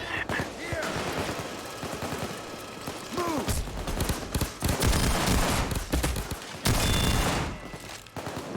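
An automated turret in the video game Payday 2 fires rapid bursts of gunfire mixed with other shots and game effects, loud and continuous, while a player talks over it.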